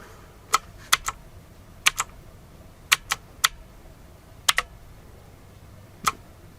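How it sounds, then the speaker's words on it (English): A cheap budget mechanical keyboard being typed on in irregular bursts of sharp, close clicky keystrokes, some in quick pairs, separated by short pauses with a quiet background. "every time you type it goes through"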